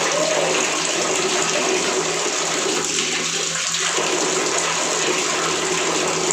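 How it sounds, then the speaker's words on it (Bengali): Water pours steadily into aquarium sand to rinse it, a continuous broad gushing rush like a running tap filling a container, close and unbroken throughout. "আগে পানিটা আমরা ভরবো"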